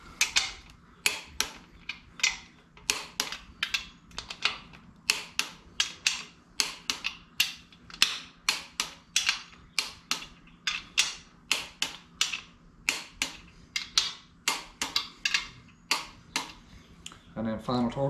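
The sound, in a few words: torque wrench tightening engine bolts on 360 Magnum shortblock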